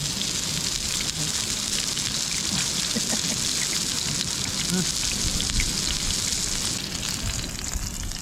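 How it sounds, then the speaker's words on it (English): Steady rain patters on surfaces nearby, a dense hiss with scattered drops, mixed with a faint sizzling and occasional low voices. "It's starting to rain now, isn't it, Rich?"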